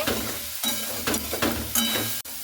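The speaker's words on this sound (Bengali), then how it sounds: "একটু সময় হাতে রেখে একটু সয়াবিনটাকে আমি খুব ভালো করে ভেজে নিচ্ছি" Soybean chunks frying in hot oil, with a dense, continuous sizzle broken by regular scrapes and stirring knocks from a spatula, close and fairly loud.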